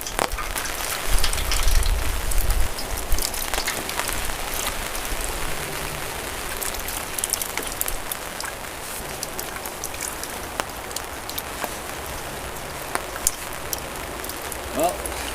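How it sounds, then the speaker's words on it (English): Rain falls steadily with a constant hiss and scattered drops striking nearby surfaces, while a person talks faintly underneath. "More rain!"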